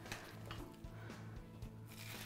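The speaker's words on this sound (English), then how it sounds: "Ooh, that's what you should hear, a nice sizzle." Salmon fillets sizzle in a hot frying pan, a soft continuous crackle and hiss close by with a few light knocks of the pan.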